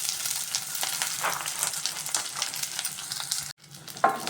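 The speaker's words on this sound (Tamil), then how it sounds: "வெங்காயம் ஒரு 15 வெங்காயத்தை சேர்த்து நல்லா வதக்கி வெங்காயம் லைட்டாக வதங்கண்டு இந்த கப்பால் 2 கப்பு பூண்டு சேர்த்துக்கலாம்" Onions and garlic sauté in a pan for a spicy garlic chutney, with a continuous close sizzle and light stirring before a brief break and a last clatter.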